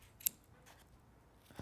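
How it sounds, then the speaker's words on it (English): Scissors make a single crisp snip through paper for a luminaria, with a softer second cut at the end, close and quiet. "so I try to design these things for easy scissor cutting"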